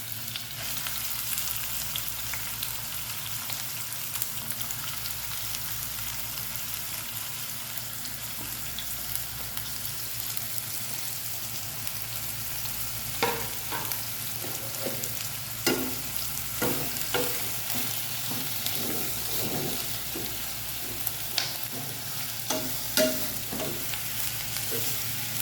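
Onions sizzle in oil in a pan over medium-high heat, a dense continuous hiss with occasional louder crackles and stirring scrapes in the later part, no voices.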